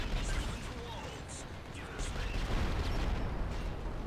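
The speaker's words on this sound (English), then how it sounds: "I wonder who I'm shooting at here" Gunfire in the shooter video game Project Snowblind, with bullet-time slow motion active: dense, continuous bursts of shots and impacts under a steady wash of noise, with a voice talking over them.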